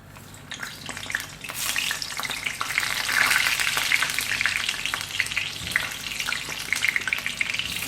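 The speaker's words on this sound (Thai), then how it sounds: "จากนั้นเขาก็สิมาทอดพวก มะเขือม่วงแล้วก็มันฝรั่งเนาะค่ะ" Eggplant and potatoes frying in hot oil produce a loud, dense, crackling sizzle that swells over the first few seconds and then holds steady, with no voices.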